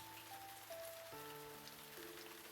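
In a video game, rain patters steadily on the leaves of banyan trees, a soft, even hiss of drops with gentle sustained musical notes playing over it.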